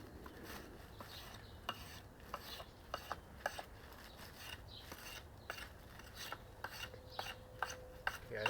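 A wooden spear in the Schoningen style being shaved down by hand: repeated rasping, scraping strokes at close range, with occasional small clicks and knocks, and no talking.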